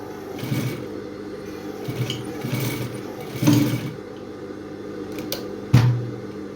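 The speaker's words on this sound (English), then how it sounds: "I'll continue to sew again" A sewing machine stitches an inbuilt transparent corset to a skirt, running in short bursts of steady whirring with brief pauses between, fairly close and moderately loud, with no talking.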